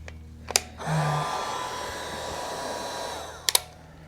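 Heat gun blowing steadily on solder butt connectors during exterior repair of a 1993 Jayco camper, a continuous airy roar that starts after a couple of clicks and runs for about three seconds before sharp clicks at the end.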